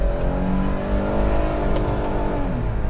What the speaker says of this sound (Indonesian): kalian dengerin mesinnya ya.